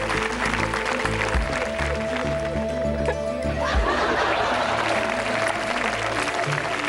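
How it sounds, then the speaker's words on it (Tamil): Studio audience on a Tamil TV game show breaks into applause and some laughter, with loud background music playing steadily throughout. "நல்ல கைத்தட்டல் அவங்களுக்கு கொடுக்கலாம்"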